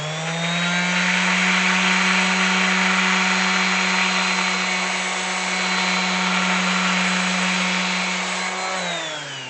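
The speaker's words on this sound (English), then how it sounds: "what I'll do is I'll pretty much just put the sander flat against it." A power sander held flat against a wooden porch swing whines steadily and loudly throughout, a constant motor hum with a harsh sanding hiss, winding down slightly at the very end.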